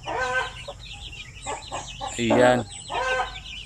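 Chicks of Shamo Aseel, Basilan and Zampen native breeds cheep and cluck close by, with a brief louder call in the middle, while someone speaks over them.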